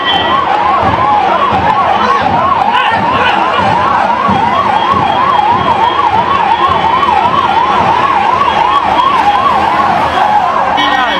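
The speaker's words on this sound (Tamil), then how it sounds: "ஸோ அந்த ஆம்புலன்ஸ் வருது, கூட்டமெல்லாம் அப்படி ஒதுங்குறான், ஆம்புலன்ஸுக்கு வழி விடுங்க." An ambulance siren wails loud and close in a rising and falling pattern that keeps repeating as it passes through a crowd, with traffic and crowd noise underneath.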